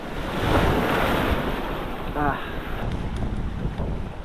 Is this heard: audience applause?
no